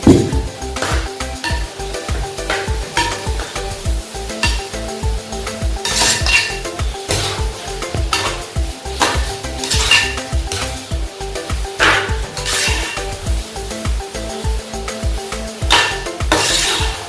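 A spoon stirs pickle in a pan with jaggery and chilli powder over the heat. It scrapes and clinks steadily against the metal under a constant loud sizzle, close up, with no talking.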